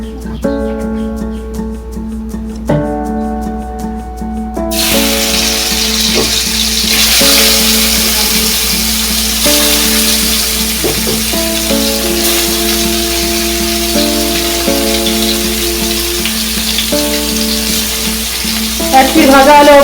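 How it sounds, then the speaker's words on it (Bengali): Kanta fish drops into hot oil in a wok and bursts into loud, continuous sizzling that stays steady, following a quieter start with background music. "আবার আমি কড়াইয়ে তেল দিয়ে দিলাম। এবার আমি মাছটা ভেজে নেব।"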